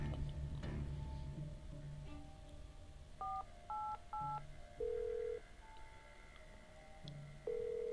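Touch-tone telephone dialing in the Black Mirror 2 video game as an ambulance is called: a string of separate, clear keypad beeps with short pauses, followed by longer tones, over a low room hum.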